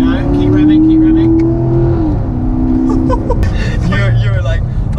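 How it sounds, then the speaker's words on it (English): A Corvette C7 Grand Sport Collectors Edition engine revs hard from inside the car, its loud tone climbing and then dropping off briefly before building again, with people talking over it. "So if you get your foot down, go on. Go. Keep revving."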